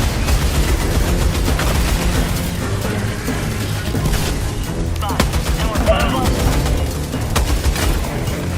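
Rapid bursts of gunfire from a gun in a shooter video game, loud and dense with repeated volleys and booms running throughout.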